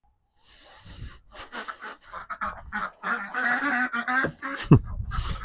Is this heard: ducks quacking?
yes